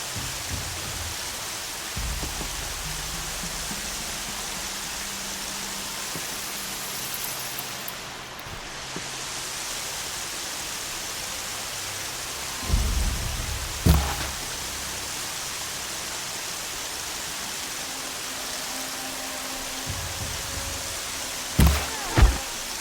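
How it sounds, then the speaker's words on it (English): Steady rain falling in the open world of the video game Horizon Zero Dawn, a constant even hiss throughout with a few soft low thumps from movement near the end. "More rain. My boots will get damp."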